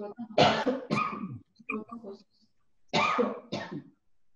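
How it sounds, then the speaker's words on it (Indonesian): Someone in a workshop discussion session coughs and clears their throat loudly and close, in several harsh bursts with short gaps between them. "Mohon maaf, saya batuk."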